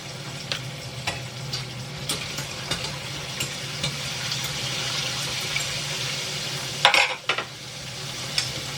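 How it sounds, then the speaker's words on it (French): Small chili peppers tossed into a hot cooking pan set up a steady, close sizzle with light stirring scrapes, and a sharper spitting burst flares briefly near the end. "je vais jeter mes petits piments qui mettent vraiment pas beaucoup de temps à cuire"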